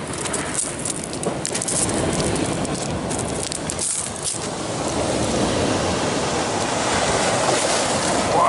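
Ocean waves roll and break on the rocky California coast, a loud continuous roar of surf with rising and falling swells, heard close by and wind-buffeted with no voices.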